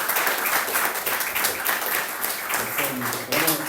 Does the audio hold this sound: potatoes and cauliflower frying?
no